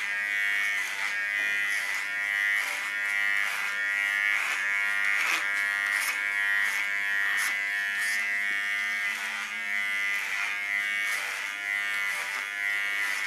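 An electric hair clipper, the latest T.K.S. model, buzzes steadily and close up while cutting hair at the nape during a Mohawk styling, its hum continuous with slight rhythmic variation from passes over the head.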